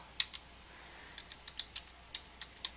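Keys on a computer keyboard tap in quick, irregular bursts, a handful of soft clicks close by in a quiet room.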